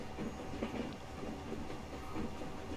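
A train runs steadily along tracks in the Transport Fever 2 video game, a continuous rumbling roll with faint rhythmic clicking of wheels, no talk.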